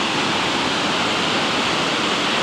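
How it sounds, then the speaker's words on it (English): Water rushes steadily through a historic canal tunnel near an aqueduct, a loud, unbroken roar of dense, hissing noise with no pauses and no voices. "You might be able to hear the rush of water now."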